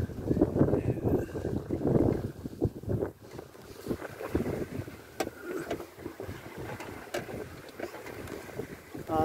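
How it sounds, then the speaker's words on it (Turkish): Gusty wind of over 10 knots buffeting across an open sailboat off the coast near Foça, with creaks, knocks and rushing water noise rising and falling. "Yani 10 mili geçti tahmin ediyorum rüzgar."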